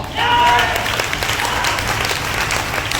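Loud, sustained applause from an audience at a network marketing anniversary event, a dense wash of clapping that runs through the whole stretch with a faint voice underneath.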